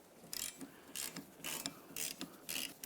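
A ratchet tightening a nut on the front strut assembly of a 2007–2012 Nissan Sentra, with about five quick bursts of close, crisp clicking separated by short pauses.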